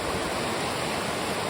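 A full creek runs beside a bridge at a trailhead in Olympic National Park, a dense continuous rushing of water, close and steady with no pauses.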